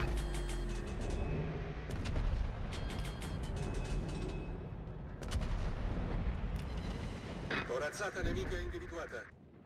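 Naval-battle game gunfire from the battleship Shikishima, with heavy booming shell blasts and repeated bursts over a rumbling background, while someone talks over the action.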